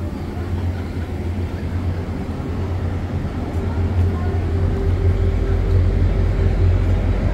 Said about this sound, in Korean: 남도 해양열차.